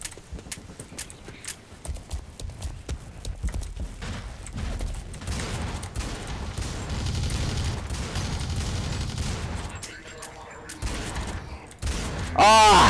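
Gunfire in the shooter game Blacklight: Retribution, a string of rapid shots and mechanical clatter over a busy mid-level game mix, ending in a sudden louder burst.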